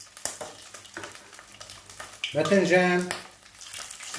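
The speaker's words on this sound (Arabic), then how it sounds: "من بعد ما سلقنا الدجاج نص سلقه بدنا نقليه تياخذ لون" Half-boiled chicken pieces drop into hot oil that was just used for frying potatoes and aubergine, and a loud sizzle bursts up midway, then settles into steady frying. Someone speaks over it.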